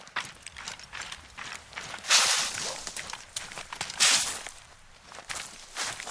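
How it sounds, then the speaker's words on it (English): Footsteps crunch steadily across taiga ground in the hunting game theHunter: Call of the Wild, a close, rhythmic series of crisp steps with brief louder rustling bursts and no talking. "so do footsteps."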